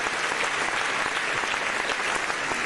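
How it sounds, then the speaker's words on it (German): Sustained audience applause for award winners at a ceremony in Berlin, a dense even wash of many hands clapping at steady loudness throughout. "der Applaus gilt noch einmal unseren Preisträgern"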